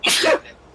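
A single sharp sneeze, close and loud, a quick breathy burst that ends abruptly and gives way to a quiet room.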